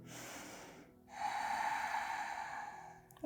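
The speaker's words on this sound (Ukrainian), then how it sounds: "І заключний глибокий вдих." A long, deep inhale through the nose during a yoga session, a steady airy breath lasting about two seconds after a short earlier breath, close and alone with no talking.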